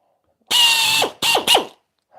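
A pneumatic air drill in a woodworking shop whirs in three loud bursts, one longer and two short, each winding down with a falling tone, and no talk.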